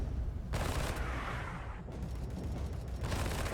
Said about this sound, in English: now I'm like shooting downwards